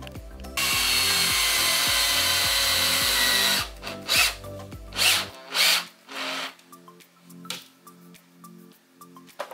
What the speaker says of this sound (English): Where did the drill go?